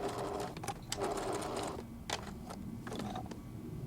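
A sewing machine stitches along the top edge of a fabric heart, running in close, rapid mechanical bursts with short stops between and clicking needle sounds.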